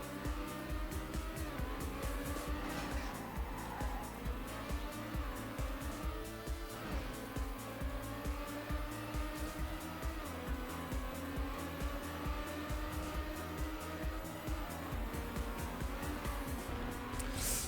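A car drifting on dirt in Trackmania Nations Forever, with a continuous high-revving engine whine and gear shifts rising and falling, plus tire scrabble on loose ground, loud and unbroken throughout.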